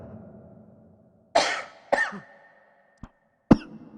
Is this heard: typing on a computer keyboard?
no